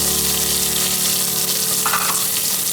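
Urad dal sputters and sizzles in hot oil, with tempering seeds alongside, a loud, dense, continuous frying crackle close by.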